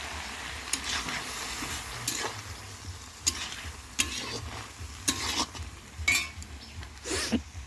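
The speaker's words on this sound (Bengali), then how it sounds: "ওর মধ্যে একটু সর্ষে বাটা দিয়ে দিব" Vegetable curry with mustard paste fries and sizzles in a pan while a spatula scrapes and clinks against the metal in irregular strokes, close by and with no talking.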